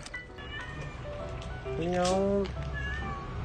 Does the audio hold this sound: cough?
no